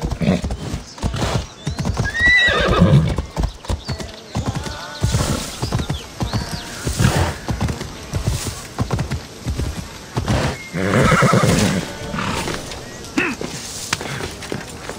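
A horse in Assassin's Creed Odyssey gallops with steady clip-clop hoofbeats and lets out several whinnies and neighs across the ride. The hooves stay close and loud, with game voices now and then over the top.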